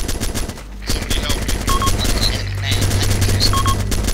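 Gunfire in the Arma 2: Operation Arrowhead video game during an urban battle, with loud overlapping machine-gun bursts and rifle shots crackling continuously throughout.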